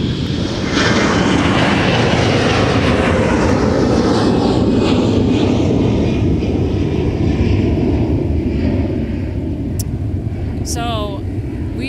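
An airliner taking off from runway 30 left at Minneapolis–St. Paul airport, a loud, sustained jet roar that swells and slowly fades as it climbs away, with a voice speaking briefly near the end.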